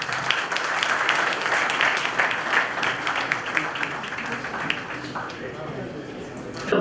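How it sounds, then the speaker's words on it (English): A conference audience at an MSME conclave applauds to welcome a speaker, with steady crowd clapping that holds throughout and tapers slightly toward the end. "Please welcome him with a round of applause."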